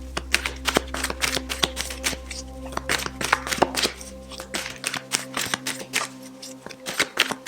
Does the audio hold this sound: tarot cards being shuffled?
yes